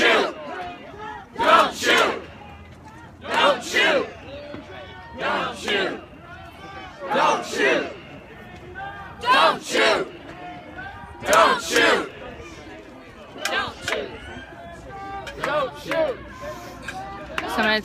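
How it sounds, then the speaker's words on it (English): A large crowd of about 300 to 400 protesters gathered after a grand jury announcement shouts in loud, rhythmic chanted bursts roughly every two seconds, with a low murmur in between. "They've got a large crowd here"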